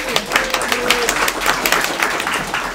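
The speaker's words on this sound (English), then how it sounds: "And let's give a round of applause one more time." Audience applause for a conference panel at a job-seeking event in Oulu, a steady wash of many hands clapping at moderate loudness with scattered louder claps and faint crowd murmur beneath.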